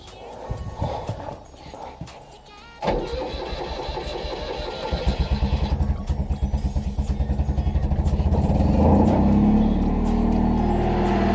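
An engine with a completely flat battery cranks, catches and starts, then settles into a steady, loud idle while running on choke, its rhythmic chugging close by after a few seconds of struggling.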